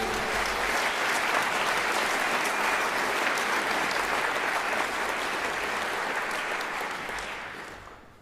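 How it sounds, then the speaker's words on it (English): Sustained applause from a large audience at a youth brass band championship results ceremony, loud and dense, fading out toward the end. "I'd like you again to applaud all the youngsters who have taken part in today's contest."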